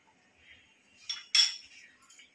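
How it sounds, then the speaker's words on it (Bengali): A spoon clinks against a bowl as yogurt is mixed with salt, with two brief, fairly distinct scrapes and taps over a quiet background. "ততক্ষণ একটি পাত্রে দই মিশিয়ে নেব"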